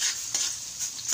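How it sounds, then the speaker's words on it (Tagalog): Onion sizzling in hot oil while being stirred in a pan for pancit canton, with a steady hiss rising in short swells as the spatula scrapes through, close and fairly loud. "Yung sibuyas, lagyan natin."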